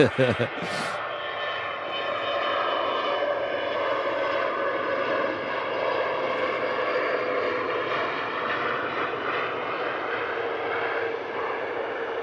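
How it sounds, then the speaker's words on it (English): A Falcon 900 business jet takes off at Manchester Airport, a loud, sustained roar of engine noise that holds steady for several seconds, heard from a distance after a brief sharp sound at the start. "Off it goes. Falcon 900 heading out to Venice."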